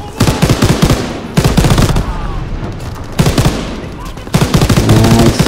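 Gunfire from a weapon in the Call of Duty WW2 campaign comes in loud, rapid automatic bursts, several bursts separated by brief pauses, each a dense rattle of sharp shots with ringing tails.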